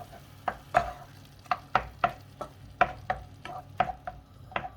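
A utensil stirs bolognese sauce in a pot, giving a regular series of soft knocks and scrapes about every half second over a low simmering background, with no talking.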